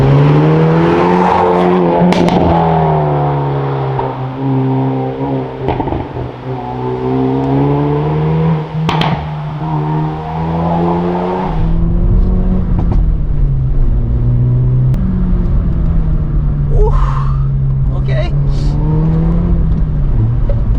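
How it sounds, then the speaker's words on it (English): A new sports car accelerates hard on a rough Italian road, its loud engine climbing through revs in repeated pulls, with a gear change and lower, gruffer note in the second half. "literally my first time driving my new car this hard"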